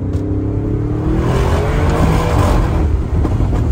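A car engine purrs steadily while driving, loud and close, with a smooth, continuous hum.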